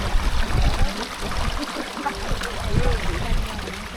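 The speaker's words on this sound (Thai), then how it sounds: "เป็นลำธารเล็กๆน้ำแค่กระตุ่มนะครับ" A small, shallow forest stream flows in a steady broadband wash, with soft gurgles and trickles near the listener across the whole stretch.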